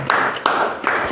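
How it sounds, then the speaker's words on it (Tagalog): A classroom group claps together in a slow, even rhythm during a multigrade Grade 5 and 6 demo lesson, three sharp claps heard in quick succession. "bigyan natin sila ng 5 palakpak"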